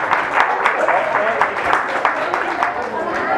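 A crowd applauds the architect Javier Granados at a community center event in Azcapotzalco, giving sustained, fairly loud clapping with a few louder individual claps poking through the steady patter.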